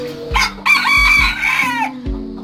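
A rooster lets out one loud, close crow that rises and then trails off over about a second, with low, steady rhythmic background sounds underneath.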